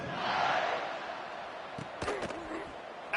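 A football stadium crowd at kickoff roars in a broad, sustained wash of cheering that swells early, then fades slightly, with a few sharp bursts and claps near the end.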